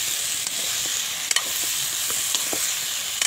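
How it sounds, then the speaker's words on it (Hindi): Tomatoes softened in a pan are stirred as they fry, giving a steady hiss of sizzling oil with a few sharp scrapes and clicks of the spoon against the pan, close and continuous, with no talking. "ये टमाटर मेरा गल गया, अब इसे चला दूँगी मैं।"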